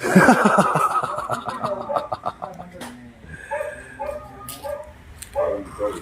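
Dogs at a mineral sale yip and bark in short, sharp bursts under and after a person talking nearby. The barks are moderately loud and come in irregular clusters.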